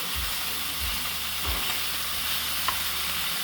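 Steak frying in a hot pan while melted butter is spooned over it, a steady broadband sizzle running throughout with soft low thumps from the spoon, no voices.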